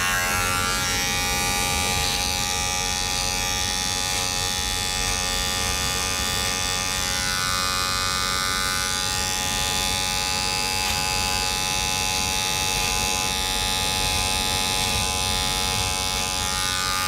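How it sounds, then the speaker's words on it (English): Electric hair clipper trimming hair during a haircut, a steady close buzzing hum that runs continuously without pause. "we can use a clipper if you want"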